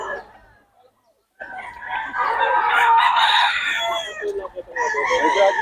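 A hatch-mix gamefowl rooster crows loudly and close, one long strained cock-a-doodle-doo after a short silence, with clucking and other fowl around and people talking nearby.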